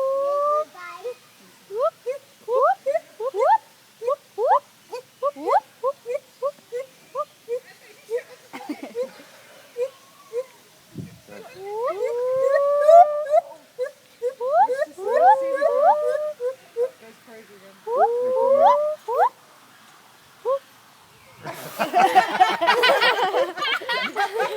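A screaming monkey lets out repeated high, chirping shrieks in rapid bursts separated by short pauses, ending in a harsh, loud, noisy scream.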